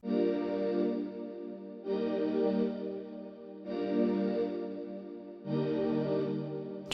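A soft house-music synth pad with shaped envelope, filter, noise and a touch of reverb plays four sustained chords, each swelling in and fading before the next, smooth and alone.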